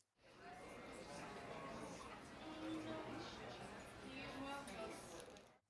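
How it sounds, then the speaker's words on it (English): Layered cafe and coffee house ambience: a dense, steady wash of indistinct chatter, soft clinks and movement, moderately quiet and continuous, fading in and out at the edges. "cafe ambient sound and coffee house"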